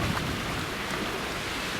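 Strong wind buffets close by as a dense, steady roar without pauses, with no one speaking.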